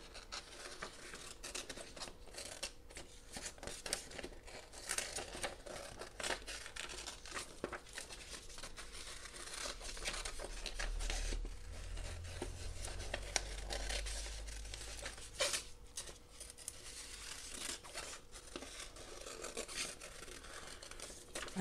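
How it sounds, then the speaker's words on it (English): Quiet, steady crinkling and snipping as scissors cut around a starfish shape on an acrylic pour transfer, a continuous soft rustle close by with no one speaking. "Just cutting around the starfish."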